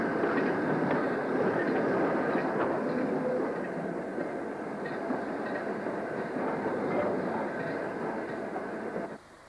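Steam locomotive 42942 hauling a rail tour along the Birkenhead docks railway at Canning Street North: a steady rumble of wheels and carriages with faint rhythmic clatter, sustained at moderate distance before fading near the end.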